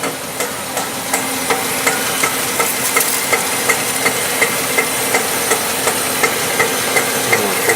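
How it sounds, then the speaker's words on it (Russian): A Honda CR-V idles in drive with a regular, rapid knocking from the drivetrain near the gearbox, evenly spaced clunks over the steady engine hum at close range. "Вот вы слышите, какой неприятный стук."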